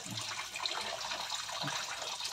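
Water gushing noisily from a kitchen tap while chicken is washed, a steady hissing splash with little variation and no voices.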